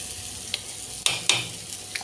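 Fish fries in a pan with a steady, close sizzle, broken by a few sharp clinks of a utensil stirring or turning the pieces.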